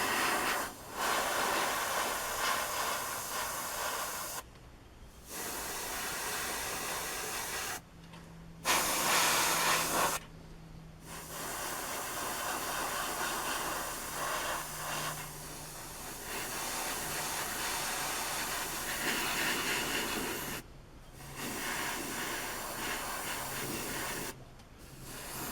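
Light airbrush paint spray on a 1/12 scale Bandai R2-D2 model: a steady close hiss in several bursts of a few seconds each, separated by brief silences, with no talking.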